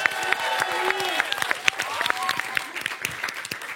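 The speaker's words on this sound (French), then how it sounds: "C'est beau, on applaudit." An audience applauds on a show stage, a dense wash of clapping with scattered louder claps, while voices and bright tonal sounds run over the top.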